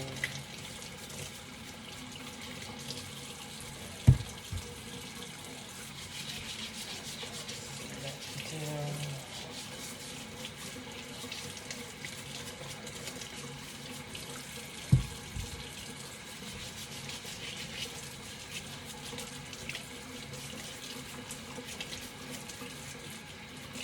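Kitchen tap running steadily with water that is too hot while potatoes are washed, a constant soft hiss with a couple of brief knocks.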